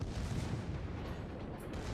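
Secondary guns on a Republique battleship firing during a naval battle in World of Warships, a dense continuous low rumble of booming gunfire with no distinct separate shots, loud and steady throughout.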